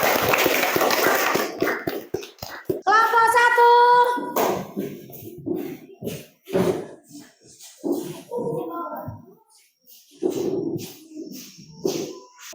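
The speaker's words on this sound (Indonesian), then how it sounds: "Tepuk tangan buat kelompok" A classroom group of presenters gets brief, scattered clapping from the room at the start, a short burst of hand claps that quickly fades, followed by people speaking and a short tonal sound.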